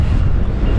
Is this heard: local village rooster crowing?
no